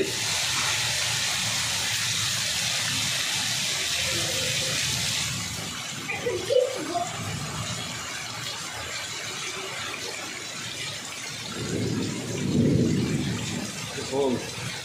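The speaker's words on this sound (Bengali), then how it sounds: "দেখতে পাচ্ছেন ঢাকার মধ্যে কিন্তু অঝরে বৃষ্টি নেমে যাচ্ছে।" Heavy rain pours across Dhaka as a steady broadband hiss, with low thunder rumbles rolling in at intervals, loudest toward the end.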